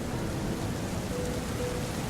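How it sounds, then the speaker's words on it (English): Rain falls steadily in the police-management video game This is the Police, a dense, muffled hiss with a low rumbling undertone, constant and moderately loud with no voices. "And it's raining."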